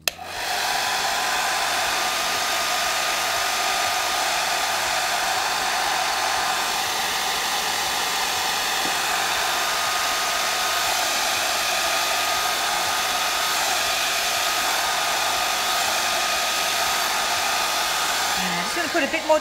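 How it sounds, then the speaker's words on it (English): A hair dryer runs steadily with a constant high whirring hum that holds the same level throughout. "And we're going to start our hairdryer."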